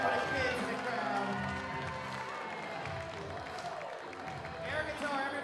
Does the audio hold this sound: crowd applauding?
yes